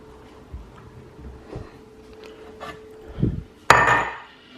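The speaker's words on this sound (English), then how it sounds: "Whilst I'm filling up the kettle" A kettle being filled with water in a home kitchen during a morning routine: a few soft clinks and knocks, then a sudden loud rush of running water that gradually fades.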